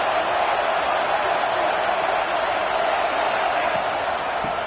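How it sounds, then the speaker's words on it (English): Steady, loud stadium roar from a college football video game, Miami at Notre Dame, as the home crowd cheers a goal-line defensive stand; a constant wash of noise with no breaks. "The crowd really making some noise now, trying to help out this defense to get this stop near the goal line"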